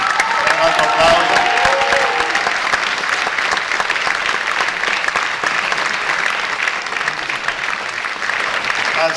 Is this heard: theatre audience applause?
yes